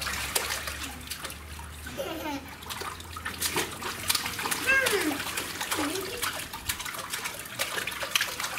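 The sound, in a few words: splashing in a backyard swimming pool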